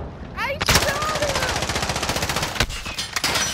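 Gunfire in a search-and-destroy video game match: a rapid stream of loud automatic shots, steadily pulsing, with a couple of heavier single blasts toward the end.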